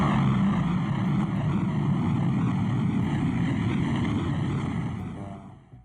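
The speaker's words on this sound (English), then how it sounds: "Seal owns a fleet of airplanes, including this huge C-123 cargo plane" A large C-123 cargo plane with propeller engines gives a steady, loud broadband drone with a faintly wavering tone, sustained throughout before fading slightly at the very end.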